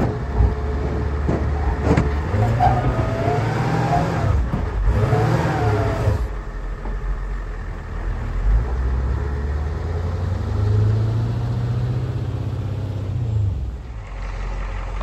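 An International semi truck pulls through a tight gate, its engine rumbling and revving up close for several seconds before settling to a steadier, quieter idle-like drone.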